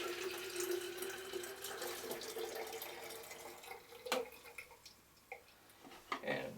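Stop bath liquid poured out of a tank while developing 120 film, a continuous splashing gush that tapers into a few trickles and drips, close and fairly quiet.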